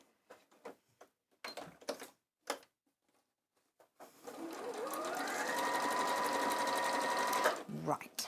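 A sewing machine starts up after a few soft handling clicks and runs steadily for several seconds, with a rising then level whirring hum, close and fairly loud, before stopping with a knock; a voice speaks briefly early on.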